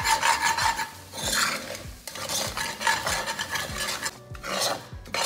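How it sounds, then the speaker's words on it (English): Chickpea flour is roasted in a pan over a lowered flame for Sindhi kadhi while a spoon scrapes and stirs it, giving repeated rasping strokes in an uneven rhythm over a faint sizzle, close and without talk. "Lower the flame and add the chickpea flour and roast it for a minute or 2 till you get that aroma."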